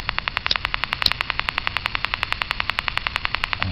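Radio interference from an LED lamp sitting in sunlight comes through as a rapid, steady train of clicking static pulses over a faint hiss, close and even in rhythm.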